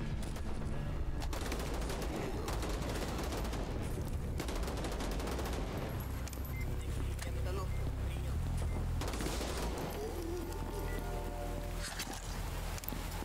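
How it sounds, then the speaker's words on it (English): Rapid bursts of gunfire in VLADiK BRUTAL, a first-person shooter game, crackle dense and steady throughout, with a low droning game soundtrack beneath and a few louder clusters of shots. "Who's shooting me?"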